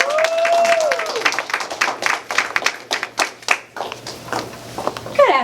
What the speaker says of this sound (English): give a round of applause for your speaker of this afternoon